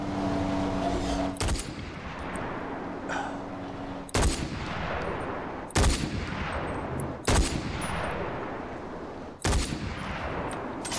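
Gunfire aimed at a rhino in the shooter game Far Cry 4: loud, close shots cracking every second or two in a steady sequence of about six reports, each trailing into a long, noisy decay.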